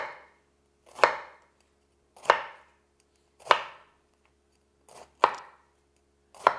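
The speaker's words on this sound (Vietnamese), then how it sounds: "Khổ qua cũng vậy luôn, mình cắt khúc vừa ăn luôn" A knife chops bitter melon into bite-size chunks on a board: five or six crisp, separate strokes roughly a second apart, close and clear with quiet between them.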